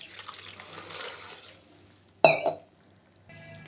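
Water poured into a pressure cooker pot of spinach greens for uppu saaru, a short splashing burst near and clear, following quiet kitchen background.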